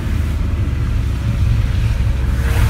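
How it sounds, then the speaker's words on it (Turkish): A car left buried under snow idles with its engine held at raised revs to warm up, a steady, loud, low rumble that swells slightly toward the end. "Arabayı biraz ısıtmamız lazım. Biraz devirini yükseltmemiz lazım."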